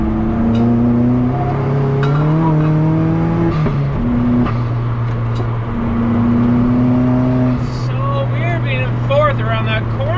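Engine of an MK2 Golf with a 1.8 turbo held in fourth gear through corners, droning steadily and loudly with rising and falling pitch, while someone talks over it throughout.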